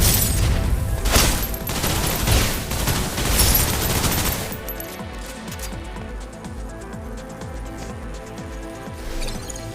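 Gunfire in the video game Snowbreak: Containment Zone: loud, dense bursts of automatic fire and booms for about four seconds, then a rapid, quieter stream of repeated shots.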